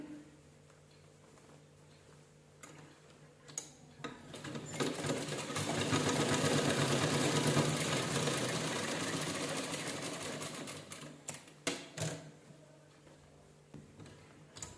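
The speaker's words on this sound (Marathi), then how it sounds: "बघा बरोबर शिलाई होत आहे आपली, एकसारखी करून घ्यायची." A sewing machine stitches a child's cap made from an old shirt with canvas for finish, running in a steady whirring, ticking stretch that swells louder in the middle, alone with no talk.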